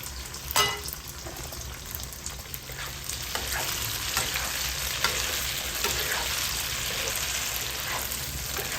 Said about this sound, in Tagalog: Iprito natin siya.